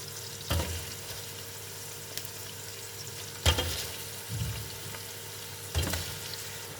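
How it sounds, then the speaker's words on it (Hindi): Goat trotters (paye) fry in oil with onions, a steady soft sizzle broken by three sharp stirring scrapes in the pan, heard alone without speech. "अब हमने इसको इसके ऑयल के साथ और प्याज के साथ इसकी अच्छे तरीके से हमने फ्राई करनी है"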